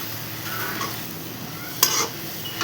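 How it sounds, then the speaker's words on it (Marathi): Ground peanut powder being stirred into a dill leaf stir-fry in a pan, a soft continuous sizzle with scraping stirs and a sharp utensil clink near the end, with no talk. "आता आपण चांगलं मिक्स करून घेऊया"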